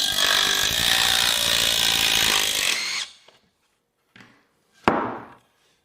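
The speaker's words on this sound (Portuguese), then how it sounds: "Vou apertar este parafuso com o driver de impacto, desde que a broca seja longa o suficiente." A cordless impact driver drives a long screw through a 2x4 board in a loud, continuous rapid hammering burst lasting about three seconds, followed by a couple of short clicks and a sharp knock.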